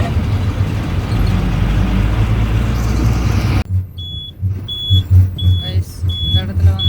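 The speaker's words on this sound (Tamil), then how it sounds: "இப்போ இங்கேருந்து வண்டி லெஃப்ட் கட் பண்ணி வெள்ளியங்காடு ரோட்டில் போயிடும்" A bus travelling from Coimbatore toward Ooty at Karamadai, with a steady engine and road rumble that drops away midway, followed by quieter idling and a series of regular high beeps.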